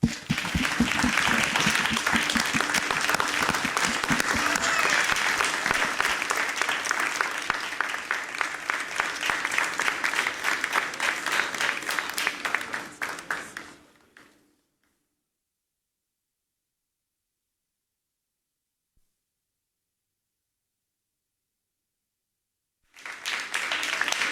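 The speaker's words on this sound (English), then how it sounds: "a louder round of applause as we welcome here to the stage Eric Boedi Sampong" Loud, dense applause from the audience at an awards ceremony in Ghana runs steadily for about fourteen seconds, fades to silence, then resumes abruptly near the end.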